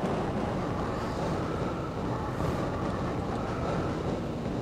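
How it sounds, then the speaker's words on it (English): Tram train in Half-Life Opposing Force rolling into a station, a steady dense rumble with a whooshing roar that holds level throughout, with no talking. "Do not attempt to open the entrance until the train has come to a complete halt at the station platform."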